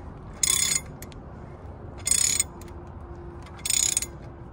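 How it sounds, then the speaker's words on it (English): A massive ratchet clicks in three separate bursts, gently turning a bolt on the drive shaft of an mk4 Volkswagen Golf VR5, with rapid close pawl clicks against a low steady background hum. "Now this is just a massive ratchet. It's not a torque wrench or anything like that."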